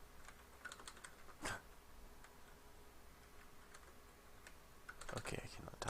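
Bursts of computer keyboard typing while writing Windows Server configuration commands, quick clicky keystrokes in short clusters with pauses, close and fairly quiet.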